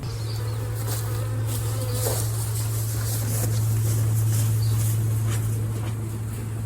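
Honey bees buzz around a hive during a honey harvest as they are driven out of the supers, a continuous, fairly loud droning hum that holds steady throughout with no talking.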